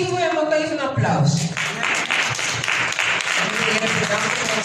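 Someone speaks briefly, then a church audience breaks into steady clapping for the worship team that continues to the end.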